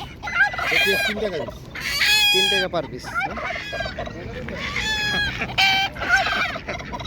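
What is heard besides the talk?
native ducks at poultry market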